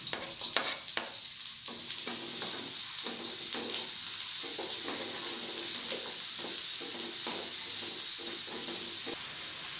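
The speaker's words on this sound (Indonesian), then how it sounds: "Jadi ini bawang-bawangannya aku tumis sampai harum." Shallots and garlic sizzle and fry in a hot pan, a continuous bright hiss with faint stirring scrapes, close and steady throughout.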